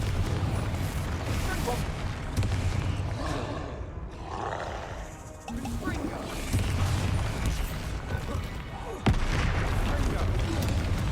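Deep booming blasts and rumbling roars from the Confringo fire spell in the Hogwarts Legacy video game, several heavy bursts across the stretch with a sharp crack near the end, dense and loud with game noise between.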